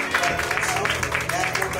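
An audience claps for an award recipient at an anniversary award ceremony, with dense, steady applause filling the short stretch and voices mixed into it.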